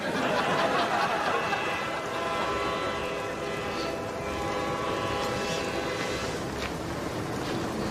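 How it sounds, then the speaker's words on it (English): A train rumbles steadily as it nears, a dense broadband roar with horn-like tonal bands and high squeals, loud and continuous throughout with no talk over it. "Does that train sound like it's getting closer?"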